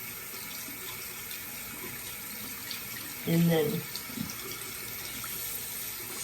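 Tap water runs steadily into a sink while a makeup brush is rinsed clean under it, a constant gentle hiss with someone briefly speaking over it.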